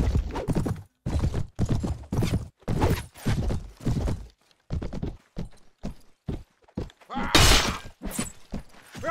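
Horse hooves clopping in Mount & Blade: Warband Viking Conquest: a sequence of close, rhythmic hoof strikes in uneven bursts with short gaps, including one louder, sharper impact near the end.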